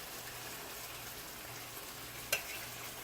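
Jerk chicken breast slices sizzle steadily in a hot pan, a constant fizzing hiss with a brief sharp crackle partway through, no talking.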